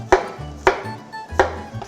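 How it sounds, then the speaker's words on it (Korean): A knife cuts thick slices of garlic on a cutting board for aglio e olio: three sharp, evenly spaced chops about half a second apart, close and distinct over a quiet background. "저희가 지금 하려고 하는 건 슬라이스를 할 건데 두껍게 자를 거예요."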